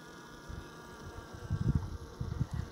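Honeybees buzzing at a hive entrance, a soft, steady droning hum that swells in a few louder, nearby passes toward the end.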